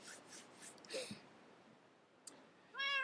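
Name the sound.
cat meowing, Minecraft cat or real cat nearby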